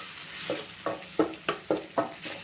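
Tender raw tamarind pods being sautéed in a pan for thuvaiyal, a spatula stirring them in about six or seven regular scraping strokes over a soft sizzle, close and fairly quiet with no voices.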